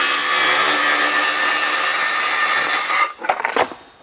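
A saw with a sharp blade cuts through laminate flooring tiles in a garden room workshop, a loud continuous rasping grind for about three seconds that stops abruptly, followed by a few brief clatters.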